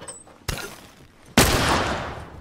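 Rifle gunfire in The Last of Us multiplayer, two sharp shots: a crack followed by a louder, closer blast about a second later with a long rolling echo tail.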